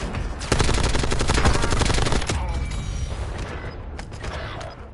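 Video game gunfire erupts in a dense burst of rapid automatic shots, loud and close for about two seconds, then trails into fainter scattered shots and mechanical clatter.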